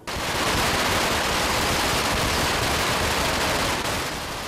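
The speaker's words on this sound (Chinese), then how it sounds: "第一座炮声嘛伫个庙口正式起炮" Firecrackers at the Yanshui beehive fireworks festival on the Lantern Festival, lit in front of a temple, set off a dense, continuous, loud volley of crackling bursts with no let-up.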